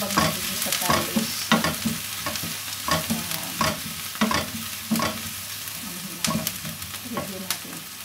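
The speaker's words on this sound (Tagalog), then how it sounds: "Habang nagigisa tayo" Chicken breast and sliced mushrooms sauté in a pan, a steady sizzle punctuated by repeated sharp scrapes and clatters of stirring, close and fairly loud with no voices.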